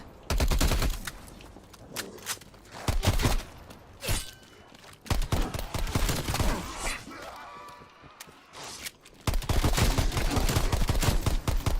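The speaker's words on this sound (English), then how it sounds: "if you're really trying, you can get the shots off. Always shoot for the head." Shotgun blasts ring out in the Call of Duty Outbreak video game, with repeated sharp gunshots and rapid bursts of gunfire over busy game effects, loud and dense throughout, with no voice over them.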